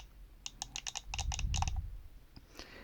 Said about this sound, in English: It's not loud, but it makes a really good clicking noise.